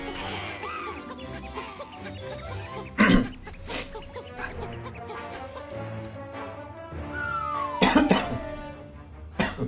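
Two sharp, loud coughs stand out, a few seconds apart, over a steady background of Yooka-Laylee game music and ambient sound.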